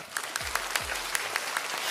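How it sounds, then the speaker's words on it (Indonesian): A church congregation at a Christmas sermon applauds loudly, giving a brief, dense burst of clapping with low rumbling sounds underneath. "Tepuk tangan yang keras."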